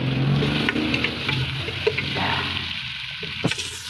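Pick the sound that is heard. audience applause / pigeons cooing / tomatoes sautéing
tomatoes sautéing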